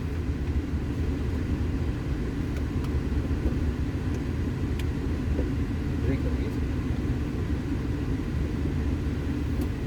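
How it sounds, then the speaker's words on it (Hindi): A Land Rover Evoque SUV creeps slowly forward, producing a steady low engine and road rumble that continues without a break, with faint clicks on top. "थोड़ा आगे लीजिए गाड़ी"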